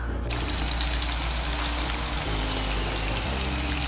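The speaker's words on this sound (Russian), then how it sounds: "Рыбка жарится." Fish fries in a pan in a home kitchen, giving off a loud, close, continuous sizzle and crackle of hot oil that carries on steadily throughout with no talking.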